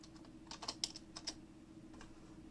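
Clicky computer keyboard typed on in a short burst of quick, close keystrokes, a few clustered clacks, then a pause and a couple more taps.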